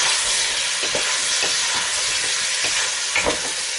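Chorizo sizzling steadily in a pan for Spanish-style pork with chickpeas, a constant close crackle with soft stirring scrapes throughout.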